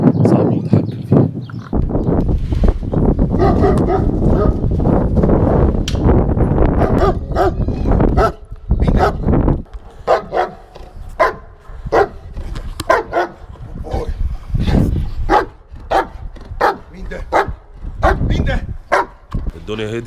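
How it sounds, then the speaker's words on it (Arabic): Max, a guard dog, barks loudly and close by in rapid, repeated bursts. The barking is continuous at first, then breaks into spaced individual barks with short pauses between them. "هنعمل ديمو خفيف كده، حاجه خفيفه مع الكلب ماكس بتاعه، ان ازاي الكلب يبقى كلب حراسه"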